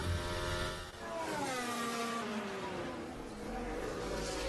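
Aston Martin Formula 1 car running a new engine during practice at the 2021 British Grand Prix, a steady high-pitched engine whine rising and falling in pitch as it passes, moderately loud.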